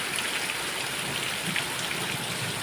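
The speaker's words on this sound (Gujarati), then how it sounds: "અત્યારે વરસાદ બહુ સારો છે" Steady rain pours down outdoors on farmland during an unseasonal May storm, a dense, even hiss of drops filling the whole stretch without any voices.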